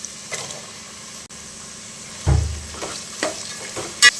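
Chopped onions fry in hot oil with ginger-garlic paste for chicken biryani: a steady low sizzle under a few louder bursts and scraping stirs, close by, with no one speaking.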